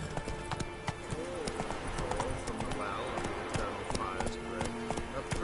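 A horse gallops in The Witcher video game, with rapid rhythmic hoofbeats running steadily throughout, a neigh heard over them and voices talking along the way.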